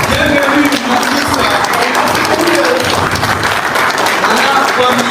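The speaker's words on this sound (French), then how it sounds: "ladies and gentlemen, please put your hands together" An audience gives a loud, sustained round of applause to welcome a speaker at a public event in Burkina Faso, with dense clapping and voices mixed in.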